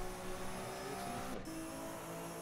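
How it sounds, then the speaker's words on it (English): A Bentley race car engine in rFactor 2 at the Nürburgring 24 Hours drones steadily at high revs with a faint gear-change dip midway, a continuous mid-level engine tone from a racing game. "I love the sound of that Bentley though."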